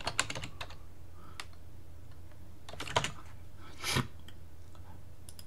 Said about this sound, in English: We will type in Fall Campout.